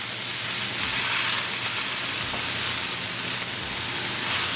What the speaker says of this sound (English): Once desi ghee is melted, bring cumin seed, jeera, and we're going to give like a 10 second. Bring ginger.